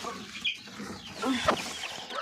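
Chicks in a cardboard box on a poultry farm, a few short high cheeps and soft clucking sounds close by over a low background.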